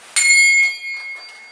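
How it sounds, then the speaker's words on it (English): A bell rings out with a bright metallic strike followed by a sustained ringing tone, loud and close, then softer repeated tones fade in the following second. "Ring the bell."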